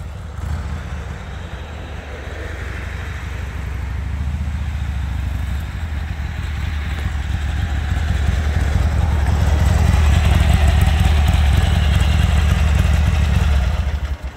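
A Harley-Davidson XLS 1000 Ironhead roadster on its stock carburetor runs steadily nearby, a loud, deep, continuous engine rumble that swells slightly partway through with no misfires.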